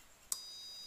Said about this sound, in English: while you hear the beep sound